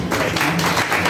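Audience at a college employment event in Hapur applauding a guest coming onto the stage, with dense, continuous clapping from a crowd filling the short moment.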